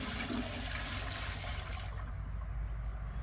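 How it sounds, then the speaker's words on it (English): Water pours steadily into a large canning pan outdoors as three quarts are added for canning green beans, a loud, continuous rushing splash close by that thins to a lighter trickle near the end, with no voices. "we're gonna add 3 quarts of water"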